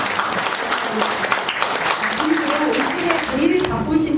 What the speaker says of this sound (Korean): 박수 다시 한번 부탁드립니다.